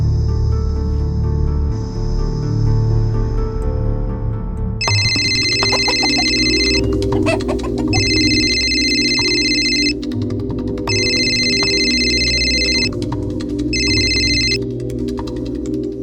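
A telephone rings in repeated electronic bursts, four evenly spaced trills after a quieter opening, loud and close over a low background hum, in a crime drama scene.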